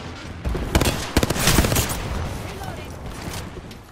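Enemy gunfire in an Apex Legends ranked match, a dense close burst of rapid cracking shots that swells and then fades into a softer rumble over a few seconds.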